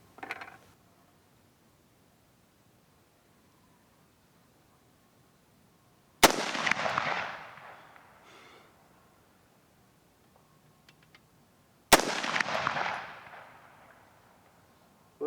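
Two loud, sharp AR-15 A2 rifle shots fired outdoors during sunset plinking, about six seconds apart, each ringing out with a long echoing decay, after a brief small click at the start.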